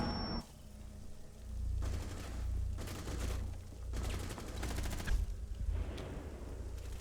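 Rapid bursts of Rainbow Six Siege gunfire rattle through a competitive esports grand final match, several dense volleys separated by short lulls over a low background rumble.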